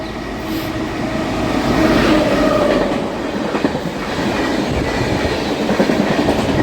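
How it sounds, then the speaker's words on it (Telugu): An express train running from Bhagat Ki Kothi to Chennai Central approaches near a railway crossing. Its loud, steady rumble builds with rhythmic clickety-clack of wheels on the rails and faint wheel squeal, and no talk is heard. "అదిగో నా వినపడుతుందా? వస్తుంది బండి."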